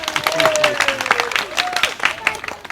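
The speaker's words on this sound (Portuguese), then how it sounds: "Uma salva de palmas para o Daniel e para a Mariana!" An audience applauds Daniel and Mariana with a steady rattle of many hands, and voices cheer and call out over the clapping throughout.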